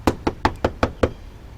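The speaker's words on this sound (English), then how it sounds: "Knock on the door." Six sharp knocks on a door in an even, steady rhythm, close and clear, then silence.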